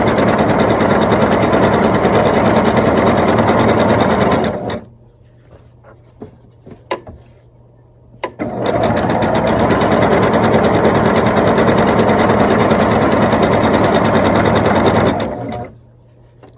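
A sewing machine pieces a quilt block using a quarter-inch foot, stitching in two long, fast, steady runs separated by a short pause filled with soft handling clicks as the fabric is turned.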